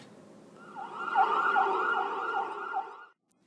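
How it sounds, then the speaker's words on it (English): Wailing ambulance siren in a school project skit, rising and falling in a steady repeating pattern for about three seconds, fairly loud and alone before cutting off. "The ambulance arrives"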